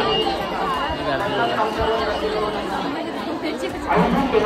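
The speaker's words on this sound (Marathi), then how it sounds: "ही फुल गर्दी आहे दर्शनाला." A dense crowd chatters at a packed Navratri temple, a steady babble of many voices close around, continuous and fairly loud with no single sound standing out.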